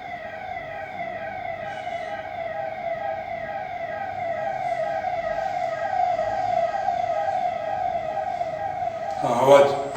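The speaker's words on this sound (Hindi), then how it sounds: "एम्बुलेंस का आवाज आ रहा है।" A wailing ambulance siren sounds steadily across the whole stretch, loud and sustained, with a brief burst of noise near the end.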